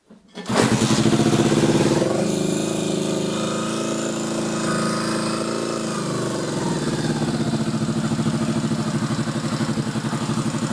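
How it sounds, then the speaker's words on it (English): Honda CB250RS motorcycle engine starting after restoration: it catches almost at once and settles into a loud, steady, close idle with a rapid, even pulse that carries on throughout. "the bike's running, and I'm going to check the condition of the reg-rec."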